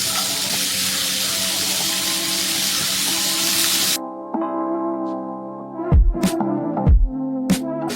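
Curry leaves and onions sizzle in hot oil, a dense spattering hiss for the first half that then thins to a softer, steadier fry, with brief clinks of a utensil and no talking.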